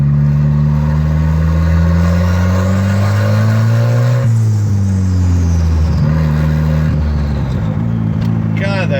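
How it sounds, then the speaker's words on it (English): A Volvo S80 T6 engine, fitted with a big turbo, revs loudly and steadily with strong low harmonics that climb and then settle, while people talk over it. "A Volvo S80 motor, the T6."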